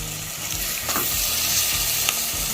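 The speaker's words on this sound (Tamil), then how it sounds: "மசாலாவை எண்ணெயிலே வதக்கிட்டு வதக்கி நம்ம மட்டனையும் போட்டுடலாம்" Masala sautés in hot oil for mutton chukka, a loud, dense, continuous sizzle with rhythmic scraping strokes of a ladle stirring through the pan, close up and without any talking.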